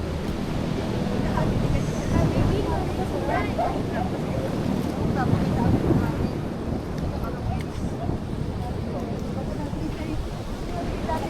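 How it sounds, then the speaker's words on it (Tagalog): Strong ocean waves wash against a coral rock shore by cottages, a broad roaring surge under wind buffeting the microphone, with people talking over it nearly throughout. "Ganda, lalakas ang alon."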